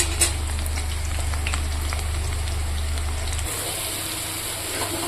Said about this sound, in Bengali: মাছের ঝোলে আলুটা আমি লাল লাল করে ভেজে নিয়েছি এবার এখানে দিয়ে দেব লঙ্কা বাটা